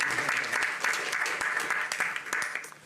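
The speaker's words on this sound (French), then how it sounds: "Donc nous devrions applaudir Zhang Yimou." Audience applause at a Cannes film festival jury press conference, a brief burst of many hands clapping at close range that carries on steadily before easing off.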